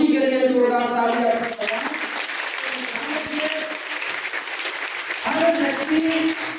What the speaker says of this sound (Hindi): तो एक बार गुरु जी के लिए जोरदार तालियां।